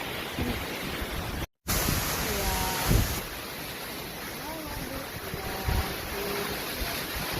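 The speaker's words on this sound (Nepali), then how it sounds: "झरना कस्तो राम्रो छ" A constant rushing roar of a waterfall on Mahadev Khola close by, with faint voices talking over it and a brief dropout near the start.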